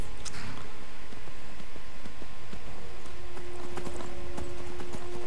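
Rhythmic clip-clop of horse hooves trotting steadily in the video game Skyrim, loud and close, with faint ambient tones underneath.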